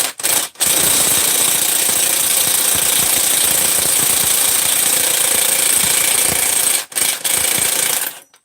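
An impact wrench hammers continuously to remove a shot bearing on a Husqvarna 288XP chainsaw, pressed with threaded rod and washers. The loud rattling runs for about six seconds, framed by two short bursts at the start and another pair near the end.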